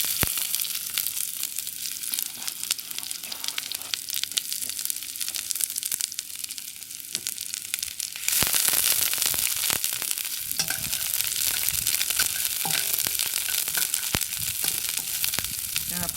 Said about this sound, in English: Then I stir fry the ginger first. Then I put onion in it.